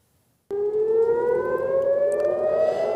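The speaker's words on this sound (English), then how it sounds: "Dawn's peace was shattered by sirens as Israeli air defences intercepted a Hezbollah missile over Tel Aviv" An air raid siren in Tel Aviv at dawn, sounding during a Hezbollah missile interception, starts suddenly and wails steadily, its tone slowly climbing, loud and sustained with no other sounds.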